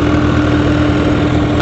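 Swaraj 744 XT tractor with a 3478 cc engine idling, a loud steady low rumble with a constant hum, close and continuous for a brief moment with no talk.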